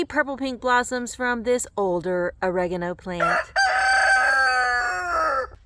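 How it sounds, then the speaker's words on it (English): Rooster crowing in a garden, a long loud cock-a-doodle-doo that follows someone speaking, heard after her talk ends. "if you hear a rooster going off throughout this video"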